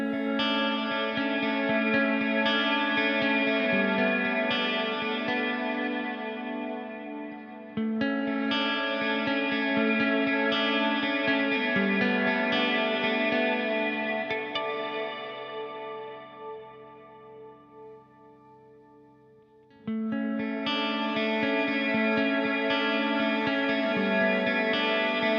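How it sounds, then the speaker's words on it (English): A guitar played through a Walrus Mako R1 pedal on its Air setting, a very large, soft reverb with a gentle shimmer. Sustained chords swell and fade in long washes, with a quiet decaying tail before a new chord enters. "The last reverb is the Air, a very large and soft reverb that also have a nice and soft shimmer effect"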